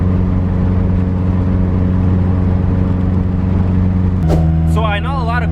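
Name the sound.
car driving on the way to work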